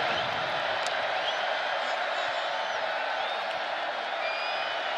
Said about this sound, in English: Crowd worked into a frenzy.